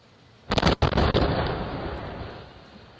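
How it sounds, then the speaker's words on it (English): A huge explosion destroying an empty house in Nanaimo, British Columbia: a loud booming blast in several quick bursts, then a long rumbling roar that slowly fades, with no talk. "after a huge explosion destroyed an empty house"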